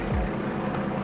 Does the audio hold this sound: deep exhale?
no